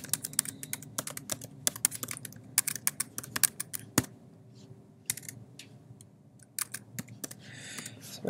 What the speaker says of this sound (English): So now we could type in something for our paragraph.